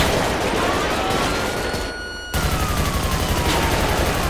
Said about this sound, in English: it seems like somebody was shooting me from that side